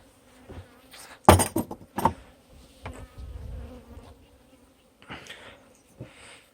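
Honey bees from a hive taken in a cutout removal buzz close by, with a low steady hum broken by several sharp knocks and clatters from handling the hive equipment.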